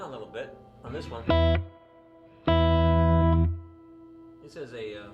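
Electric guitar played through a Fender Princeton amp with spring reverb: two sustained chords ring out loudly with a reverberant tail, framed by brief talking before and after.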